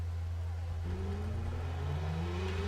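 A racing car engine in a racing video game, a steady hum that rises into a climbing whine as it accelerates, fairly faint with no voices.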